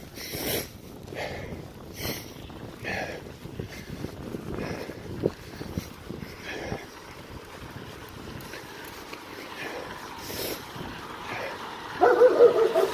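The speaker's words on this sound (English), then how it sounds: "Don't bark at cars." A dog barking outdoors in Russia near a road and building work, several sharp barks spread across wind noise, with louder barks toward the end.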